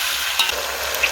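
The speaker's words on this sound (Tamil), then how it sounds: "நல்லா வதக்குங்க." Ginger garlic paste sautéing in a hot pan for a country chicken biryani, a loud continuous close sizzle with faint stirring scrapes and no voices.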